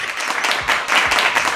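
An audience gives a short burst of steady applause, many hands clapping together at close range, loud and continuous.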